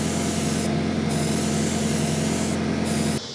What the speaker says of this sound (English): For the last color that I'm gonna airbrush onto this alligator